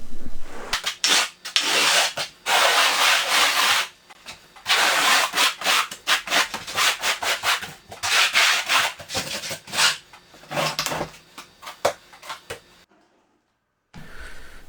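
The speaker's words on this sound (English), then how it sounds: "Now I'm flipping the trowel over, and I'm going to notch out the thin set." A steel notched trowel scrapes and rubs thinset mortar across a Prodeso heat membrane with SunTouch Warm Wire for floor tile, giving repeated close, gritty strokes in bursts with short pauses, then quiet at the end.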